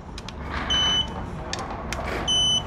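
An electronic torque wrench set to 5.5 newton meters, tightening the clutch cover on a 2023 BMW S 1000 RR, gives two short, clear, steady beeps, close and loud, about a second and a half apart.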